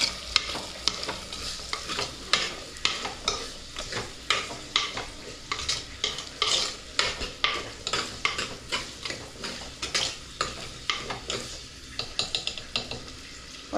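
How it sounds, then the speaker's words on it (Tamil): Onion, garlic and curry leaves fry in oil for a home-style garlic kuzhambu, with a steady stream of sharp spoon-scraping stirs against the pan over a continuous close sizzle. "வெங்காயம், பூண்டு, கருவேப்பிலை போட்டு நல்லா வணக்கிறேன்."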